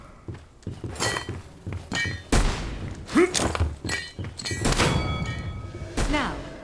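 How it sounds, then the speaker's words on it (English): A frag grenade is launched in a fake Overwatch-style shooter game, giving heavy thunks and shattering blasts among scattered impact hits, with a voice talking over the busy game sounds. "Now, launch your frag grenade to hit all targets in the area."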